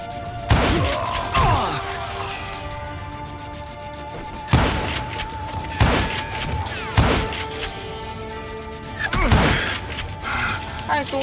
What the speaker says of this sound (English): 这步枪搞得很像散弹啊！